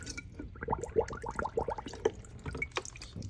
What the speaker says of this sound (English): Okay, so I will fill this with water.